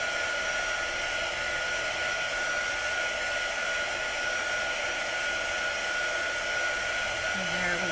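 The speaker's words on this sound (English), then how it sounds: "I'm just helping the drying process up a little bit with my heat tool." A heat tool blows air steadily to dry a decoration, a constant close whooshing hiss that holds at even loudness throughout with no talking.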